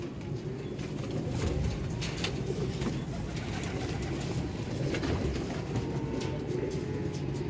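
Many caged pigeons coo at once in a dense, continuous low rumble of overlapping throaty calls, steady and fairly close throughout.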